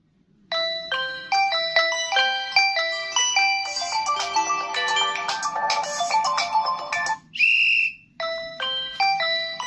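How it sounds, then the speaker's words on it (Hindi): A bright electronic whistle ringtone plays from a Tecno Spark Go phone speaker, a repeating melodic tune of sharp chirpy tones with a brief pause near the end. "ये आपकी विसल है, विसल साउंड है"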